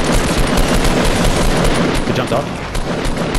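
Dense, loud gunfire in an online squad video game shooter, continuous bursts filling the whole moment while players talk over it.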